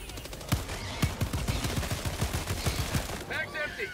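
Rapid automatic gunfire in the video game Helldivers 2, loud and close, with regular bursts of sharp shots over about four seconds, fading into lighter mechanical sounds at the end.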